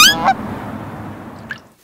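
A goose gives a single loud, close honk at the start, followed by a lingering noisy tail and a faint second call near the end.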